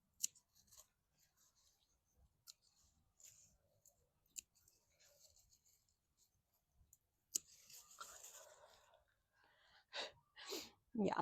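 Pruning shears snip through a tomato plant stem in a garden, a few sharp, close cuts clustered near the end after quiet rustling and handling.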